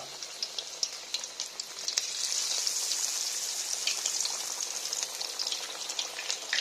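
Raw mango slices dipped in gram-flour batter fry in hot oil, giving a steady, bright sizzle with crackling pops that grows fuller and continues throughout.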